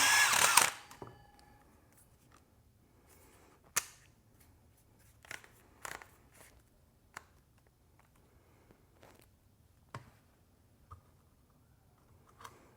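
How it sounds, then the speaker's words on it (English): A power drill whirs in one short, loud burst while drilling a hole in a thermostat wall plate, followed by scattered light clicks and taps in an otherwise quiet room. "then you just hold it down and then you drill"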